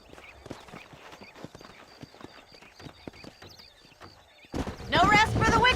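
Horse hooves clip-clopping in the Western video game Red Dead Redemption, a steady run of close hoof beats on dry ground, joined near the end by a loud horse whinny or snort.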